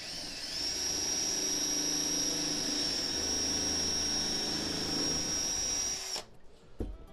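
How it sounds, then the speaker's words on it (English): A power drill whines steadily at close range for about six seconds while driving a screw into a wooden wall frame, then cuts off, followed by a couple of brief knocks. "drive a screw in"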